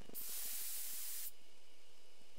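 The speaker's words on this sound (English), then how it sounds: "I take careful aim and spray the drop." A sprayer aimed at a beehive in the video game Death Mark releases one sharp, steady hiss lasting about a second, then stops, leaving only quiet background.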